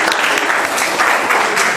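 Students in a classroom clap loudly and steadily for a group, a close, dense burst of applause with no gaps.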